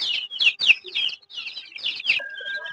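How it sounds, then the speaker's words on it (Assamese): Local chicken chicks cheep and peep in a rapid irregular chatter, close and fairly loud, with no talk over them. "105টা লোকেল কুকুৰা পোৱালি আছে"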